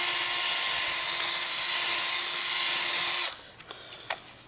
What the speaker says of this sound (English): switch out one boring tool for a slightly smaller boring tool, and then drill